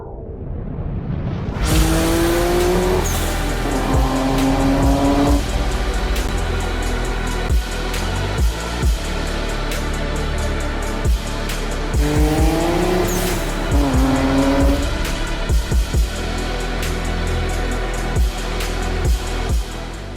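A yellow Nissan R33 GTR Nismo drives hard with a loud, steady engine roar, its tires squealing in two rising bursts early on and again midway, all close and continuous with no talk.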